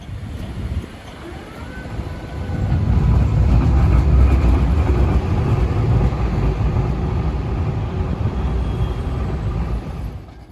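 A Sochimi Serie 9000 tram from the early 1990s runs through Rome, its chopper traction drive giving a loud, steady rumbling roar that swells after a few seconds, holds, and then eases off.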